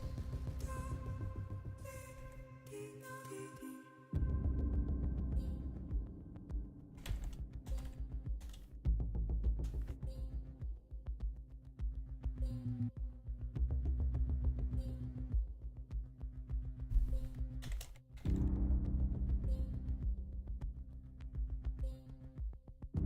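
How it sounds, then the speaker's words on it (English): Computer keyboard typing in a YouTube live chat, rapid irregular key clicks running throughout over a loud steady music bed with a low hum. "I'm typing in YouTube chat again"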